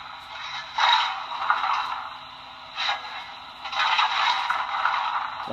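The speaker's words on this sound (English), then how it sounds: "And what you hear now is the shoveling of coal." Coal being shoveled on a Broadway Limited Atlantic Coast Line Pacific model steam locomotive sound system: several gritty scraping bursts, near and moderately loud, over a steady electronic hum, with no voices.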